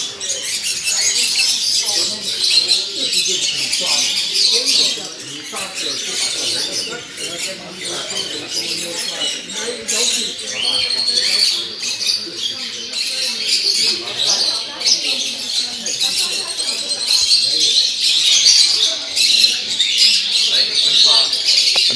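At an indoor bird fair, many caged birds squawk, chirp and screech loudly and continuously over a murmur of people's voices.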